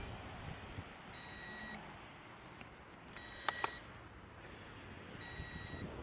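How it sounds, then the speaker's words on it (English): Faint, high electronic beeps from a Sky Viper V2450GPS drone transmitter sound in short bursts at intervals over a steady wind-like hiss, with a couple of sharper clicks midway. "The transmitter is still beeping though"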